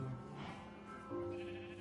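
Sheep bleating in Minecraft, a couple of wavering nasal calls close by over a steady game backdrop, with no talk.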